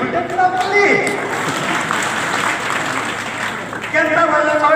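Audience applause at a Sambalpuri poetry recital: a steady wash of clapping runs the whole time, with a reciting voice heard briefly at the start and again near the end.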